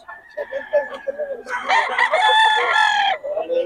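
A yellow-legged hatch gamefowl rooster crows once, loud and close, at a market, with clucking around it and faint voices in the background.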